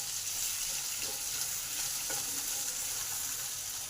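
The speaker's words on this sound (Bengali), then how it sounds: "এবার ভেন্ডিগুলোকে ভেজে নেব।" Salted okra fries in a little oil in a pan, producing a brief, even, continuous sizzle with faint stirring underneath.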